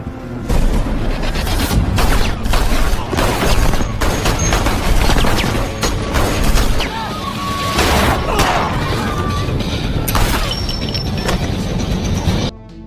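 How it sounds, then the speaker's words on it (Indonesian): Fierce gunfight in an action film: dense bursts of gunfire, booms and crashes pile up continuously over about thirteen seconds, loud and close with no talking. "sehingga baku tembak sengit tidak dapat lagi dihindari."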